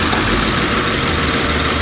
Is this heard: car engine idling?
yes